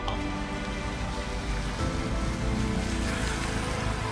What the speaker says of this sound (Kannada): ದಾವಣಗೆರೆ ಜಿಲ್ಲೆಯಲ್ಲಿ ಭಾರೀ ಮಳೆಯಿಂದ ಅವಾಂತರಗಳ ಸುರಿಮಳೆಯಾಗಿದೆ